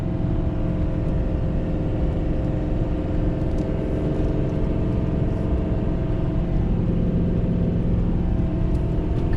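A tuned Ford Powerstroke diesel truck engine pulls hard in 2nd gear while towing over 30,000 lbs, with a steady, loud, continuous drone and whir running the whole time and no voices.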